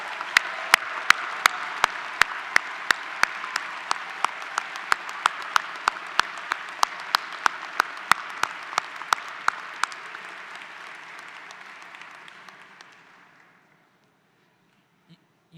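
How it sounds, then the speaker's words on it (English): Thunderous applause from parents, spouses and students at an engineering graduation recognition ceremony, dense clapping with sharp individual claps standing out, gradually thinning and fading to silence near the end. "let's give them a thunderous applause and appreciation"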